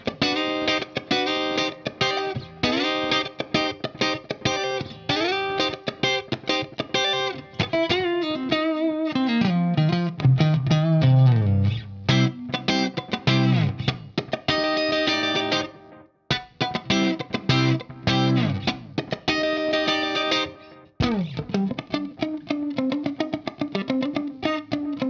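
An electric guitar on its neck pickup plays melodic lines with a warm, round tone, touched with echo and reverb, continuous and up close, with no voices.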